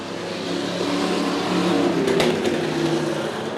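Race cars roar past on the last lap of a regional race, a loud, sustained engine drone swelling as a car passes close by with a brief sharp peak before easing off.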